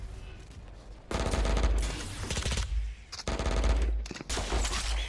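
Rapid automatic gunfire from a Valorant professional match on defense, with dense bursts of rifle fire crackling loudly in two long volleys separated by a short lull.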